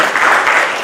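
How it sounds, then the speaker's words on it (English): At the whatnext 2015 conference, an audience breaks into dense, continuous applause, loud and close for its brief duration. "then I can applaud you"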